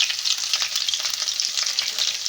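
Urad dal, moong dal and green chilies fry in hot oil, giving a close, continuous hiss and crackle with stirring, no voices over it.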